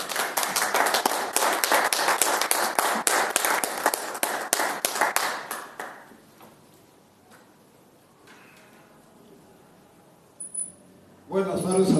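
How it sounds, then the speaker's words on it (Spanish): A crowd applauds a speaker at a community talk in Ecatepec, with brisk, loud clapping for about six seconds that fades out, followed by near silence and then a brief burst of nearby noise at the end. "Un aplauso, por favor, para él."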